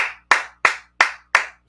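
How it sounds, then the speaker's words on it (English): Five sharp hand claps in an even, steady rhythm, each crisp and close with a quick decay and brief silence between, no voices present. "Let's clap it up."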